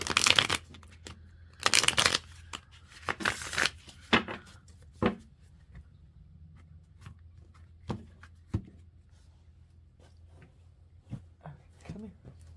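A deck of cards being shuffled on a sofa: several loud riffling bursts close by early on, then scattered light taps and handling clicks, with someone speaking throughout.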